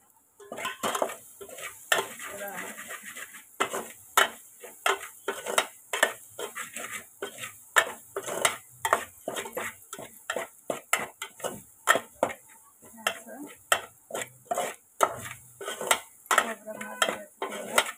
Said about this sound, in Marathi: तेलात खोबरं मस्त भाजून द्यायचं